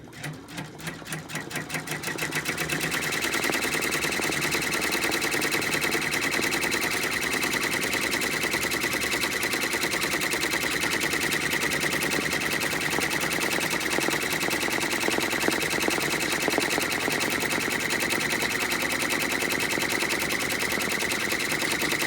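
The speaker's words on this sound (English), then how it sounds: "my file's gonna do a tack down stitch, which is just basically a running straight stitch, and then it'll do a zigzag tack down." An embroidery machine stitches a patch, laying down a zigzag tack-down stitch. It starts up over the first couple of seconds, then keeps up a loud, steady, rapid mechanical chatter close by.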